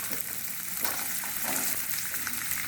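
Carrots hit hot oil in a pan and sizzle loudly and steadily, a dense, even crackle of frying with no voices, made while preparing a winter carrot, radish and green chili pickle.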